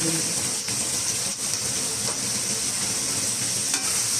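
Sliced onions with carrot frying in a pan for spaghetti at home, a loud, dense, continuous sizzle with faint stirring scrapes, close up and steady throughout.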